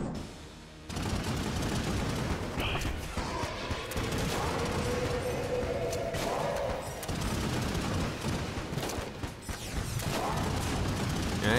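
Rapid bursts of gunfire from the Yari Launcher in the Enter the Gungeon video game, a dense, sustained barrage of shots and blasts with game effects layered over it, loud and continuous.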